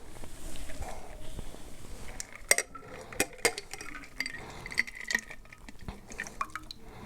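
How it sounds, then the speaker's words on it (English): A big ice cube goes into a rocks glass, giving a few sharp glassy clinks and knocks over quiet background rustle, spaced irregularly and heard up close. "Then you get your rocks glass. Nice big ice cube if you can get it."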